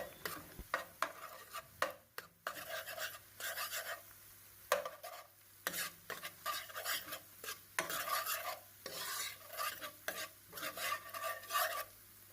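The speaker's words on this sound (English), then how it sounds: "you're going to go ahead and mix the onions and the garlic with the eggs" Scrambled eggs being stirred together with onions and garlic in a hot pan for Jamaican-style lobster fried rice, with a steady run of scraping utensil strokes over a soft sizzle, close and fairly quiet.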